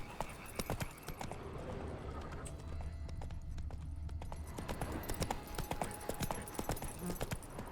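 Rapid hoofbeats of a galloping horse pound steadily throughout, with a brief snort or whinny and faint background voices, in the video game The Witcher 3: Blood and Wine.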